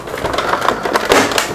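A few sharp clicks and crackles in quick succession as a plastic PS5 console cover snaps into place, close by, with handling noise around them and no talk.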